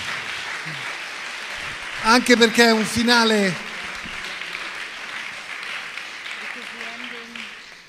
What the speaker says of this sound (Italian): Facciamo un applauso qua